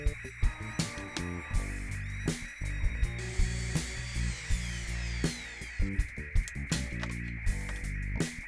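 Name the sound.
power saw cutting wood board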